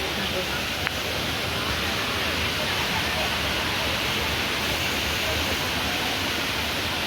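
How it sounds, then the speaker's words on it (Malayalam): A flowing stream at Vagamon gives a steady, continuous rush of water, even and unbroken from start to end, moderately loud with no talk. "അരുവിയാണ്"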